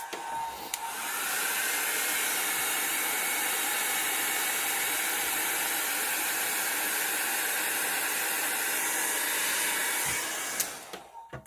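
Hair dryer drying an alcohol ink painting: a steady, loud, airy whooshing hiss that starts abruptly, runs unbroken for about ten seconds, then clicks off.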